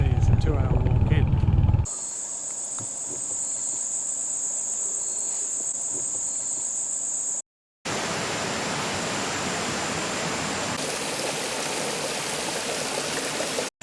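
A forest river and its tributaries in the middle of Bacan island, early in the morning, giving a steady broadband rush of flowing water. Insects and crickets shrill over it, with a louder close passage after a short break.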